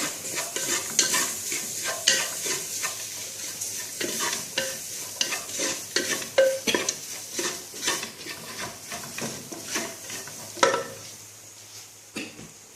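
Browned masala stirred in a frying pan before beef goes in, a quick run of close scraping and clinking strokes over a continuous sizzle, with a faint cough near the end and no talk.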